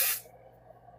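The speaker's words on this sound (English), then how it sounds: "I'll spray this one." A spray can gives a short, loud hissing burst over a baby quilt, then cuts off into near quiet with only faint room hum.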